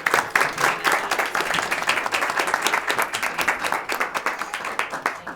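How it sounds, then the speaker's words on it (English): A school committee meeting audience gives a round of applause for students, crisp overlapping hand claps at fairly close range, steady then thinning toward the end, no voices over it. "I want one more round of applause for our students"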